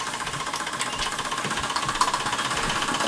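A Stirlingkit Retrol SE-02 model steam engine runs steadily, giving a fast, even mechanical chuffing and ticking with a faint hiss, close by and continuous with no talk.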